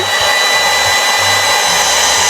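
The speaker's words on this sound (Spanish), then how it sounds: "lo que voy a hacer va a ser darle con una pistola de calor" A steady, loud rush of hot air blowing continuously from a nearby heat gun, a constant whooshing hiss with a low motor hum underneath.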